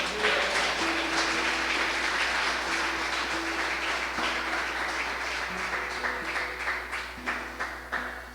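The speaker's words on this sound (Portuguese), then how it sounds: "Você pode aplaudir o Senhor?" A church congregation applauds during a Portuguese-language evangelical service, the clapping a dense, sustained wash over about eight seconds, with faint tonal music held underneath.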